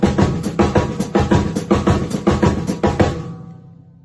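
A basic samba marcha groove played straight on a drum kit, steady repeating hits with cymbal on top, close and loud, then ringing out and fading near the end.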